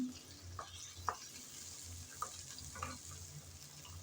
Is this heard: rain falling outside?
no